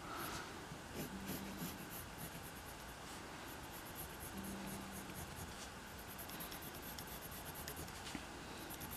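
Pencil drawing on paper of a Rajastega dinosaur from Jurassic World: continuous soft scratching and rubbing strokes, close and quiet, with occasional light taps and no voices.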